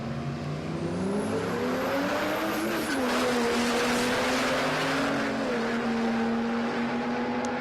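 Turbocharged Barra-powered Nissan Skyline drag racing, its engine roaring loud and steady as the pitch climbs through the run, with a faint high whine near the start.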